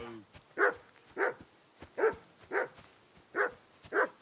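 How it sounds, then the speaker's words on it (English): A dog in the video game Kingdom Come: Deliverance II barks in the distance, six or seven evenly spaced single barks about half a second apart, moderately loud over quiet background. "I assume you can hear that damn dog of yours barking."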